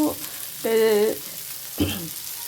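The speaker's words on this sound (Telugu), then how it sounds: "ఓకే ఆల్మోస్ట్ ఫ్రై అయిపోయాయండి" Fish fry in an uncovered pan on a low flame, a soft continuous sizzle with a few brief tonal sounds rising over it.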